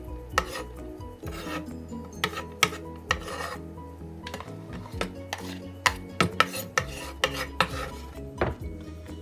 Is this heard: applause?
no